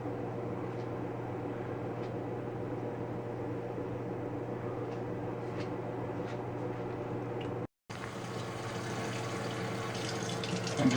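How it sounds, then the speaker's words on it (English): Warm water runs steadily and pours into a pan for baking a glazed ham, a continuous close splashing flow with a brief break before it resumes slightly brighter. "I'm just adding some warm water to this"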